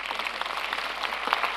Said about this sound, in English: We can clap for him wherever he is.